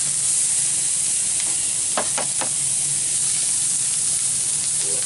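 Vegetables warming on a Blackstone griddle, a steady close hiss and sizzle throughout, broken by a few quick scraping stirs of a spatula near the middle, with no talk.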